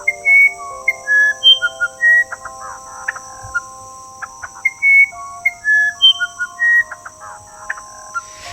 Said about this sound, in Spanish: El canto aflautado del cucarachero musical